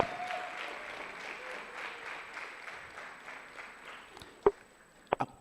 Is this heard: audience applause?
yes